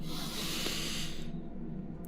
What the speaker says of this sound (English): Take a nice little sniff in,